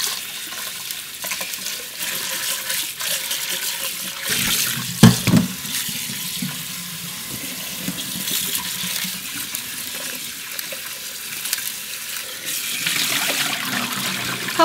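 Running tap water pours steadily into a sink while soaked gosari fernbrake is washed by hand, a continuous close splashing wash with a louder gush partway through.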